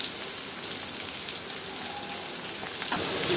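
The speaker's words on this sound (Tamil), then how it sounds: "ஓரளவுக்கு வதங்கிடுச்சு" Onions, fennel seeds and curry leaves sautéing in hot oil in a home kitchen, a steady close crackling sizzle with a rain-like patter and occasional stirring, no talking.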